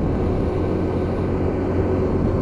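A Lexmoto LXS motorcycle engine, just repaired, gives a steady, humming drone while riding, holding a fairly even pitch for the short stretch with no talking.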